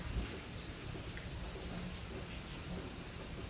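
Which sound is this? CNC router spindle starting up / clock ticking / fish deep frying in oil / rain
rain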